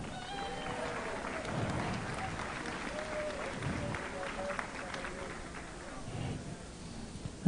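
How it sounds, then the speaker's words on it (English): Applause from a crowd at a powerlifting national championship, steady clapping for a volunteer helper that carries on throughout, with some talk and background noise mixed in. "a big round of applause for Miriam Elm."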